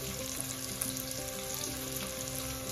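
Onions sizzle in a pan as asafoetida goes in for a Konkani-style jackfruit bhaji, a soft steady crackle and hiss with faint stirring, no voices.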